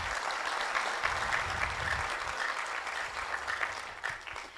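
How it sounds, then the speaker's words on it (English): A conference audience at the closing of the DREAM II conference applauds the Meta team with sustained, even clapping from many hands that runs throughout, fairly soft and diffuse. "a big clap for the Meta team"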